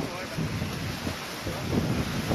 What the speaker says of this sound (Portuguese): Pena que tá vindo vento